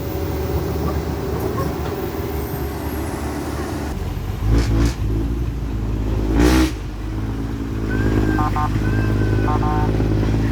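A motorcycle engine runs loud and continuous while being ridden fast, its drone steady with a couple of sharper revving surges midway and a brief high tone near the end.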